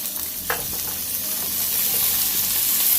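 Chopped vegetables hit a hot pot for a shrimp stir-fry, sizzling loudly and steadily, with a stir or scrape near the start and the hiss building slightly toward the end; nobody talks.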